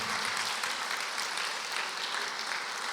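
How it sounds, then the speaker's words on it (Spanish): Church congregation applauding during a Spanish-language worship service, an even, continuous wash of many hands clapping at moderate distance with no breaks or voices. "Den un aplauso al Señor"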